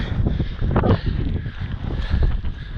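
Wind gusts buffet a hilltop near Pen y Fan, a loud, rough rumble of rushing air against the microphone that surges and eases over a few seconds, with no speech.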